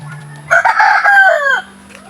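A rooster crows once, loud and close, a rising then falling call lasting about a second, with a soft low murmur before it, among backyard roosters and a hen at feeding time.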